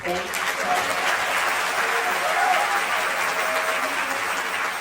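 Sustained applause fills a legislative assembly hall during a tribute ceremony, a dense, even wash of many hands clapping at a steady level with no pauses.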